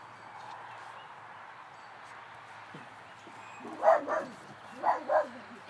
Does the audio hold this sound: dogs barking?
yes